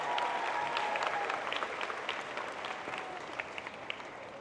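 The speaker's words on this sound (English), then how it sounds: "Let's give them a big round of applause." Audience applause at a welcome ceremony, honoring college and alumni volunteers: steady, dense clapping from a crowd throughout, with scattered louder claps standing out near the end.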